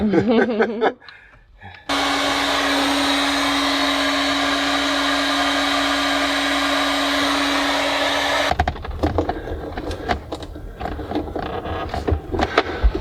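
A handheld heat gun blasts hot air in a loud, steady roaring hiss with a constant tonal hum, running for several seconds before cutting off into scattered clatter and handling noises, aboard a boat during plumbing work.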